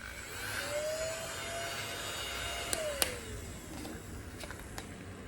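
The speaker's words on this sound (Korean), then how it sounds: "그리고 세 번째는 이 지우개 청소기요." A small desk eraser vacuum cleaner runs with a steady, faint motor whine and a thin tone that shifts slightly in pitch, with a few soft clicks near the end.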